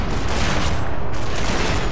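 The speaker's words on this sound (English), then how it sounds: "they're shooting at me as well" Video game gunfire from enemies firing during a firefight with a sniper, a dense continuous barrage of shots and booms filling the whole clip at close, loud level.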